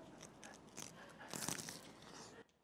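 A close, crisp crunch as a monaka ice cream wafer is bitten into, followed by brief chewing crackles, quiet and alone.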